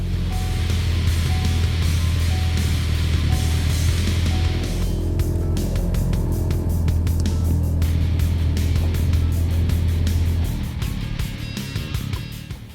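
Ford Focus RS engine cranking to life and settling into a steady, loud idle nearby, a constant low rumble that eases off toward the end.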